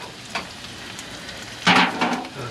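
Japanese gyoza fry in oil in a pan, a soft close sizzle that swells into a louder burst of spitting and scraping near the end as the pan is moved to spread the oil.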